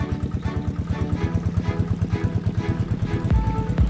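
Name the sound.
deep well irrigation pump engine running at low idle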